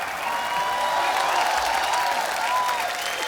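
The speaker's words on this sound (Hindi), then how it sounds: "जोरदार तालियां होनी चाहिए यार" Loud, steady applause from a studio audience on a Hindi comedy talk show, dense clapping sustained evenly for the whole stretch with a faint crowd murmur mixed in.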